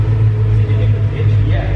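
A BMW M3 with an IPE F1 exhaust drones loud and low in a steady, close engine rumble, with talk over it.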